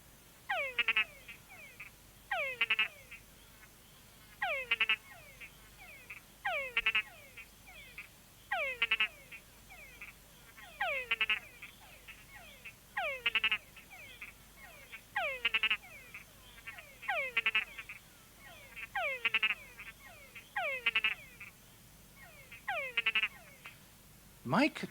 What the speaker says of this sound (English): The deeper the sound of the chucks, the bigger the male frog.